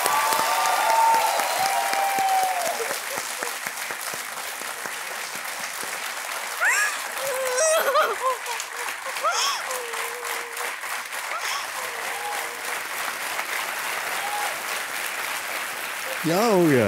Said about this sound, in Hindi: ताली बजते रहे स्वाति के लिए।